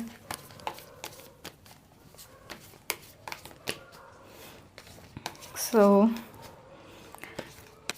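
Tarot cards being shuffled by hand for a reading: a close run of soft riffling flicks and taps, with a brief tonal sound partway through.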